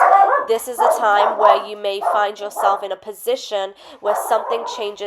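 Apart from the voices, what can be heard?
dog barking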